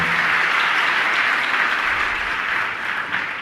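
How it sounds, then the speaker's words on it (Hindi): Loud, sustained applause from a large audience at a Jain religious question-and-answer gathering, a dense steady wash of clapping filling the whole stretch with no voices over it. "एक बार जोरदार तालियों से।"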